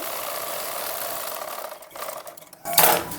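Sewing machine stitching a lined blouse: a steady, fast mechanical whir and rattle that runs continuously, then slows and breaks off into a few handling clicks and a brief burst of noise, close and alone without voices.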